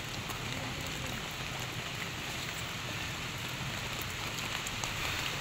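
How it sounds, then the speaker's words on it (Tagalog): Heavy rain pours down as a steady, dense hiss with faint scattered drop impacts, continuous and even throughout with no voices. "nalakas po ang ulan"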